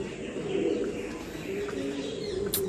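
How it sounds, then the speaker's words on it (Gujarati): Many pigeons coo softly and steadily, a low murmuring chorus echoing inside the Adi Kadi stepwell at Uparkot fort, with no break across the stretch. "કબૂતર પણ બહુ છે."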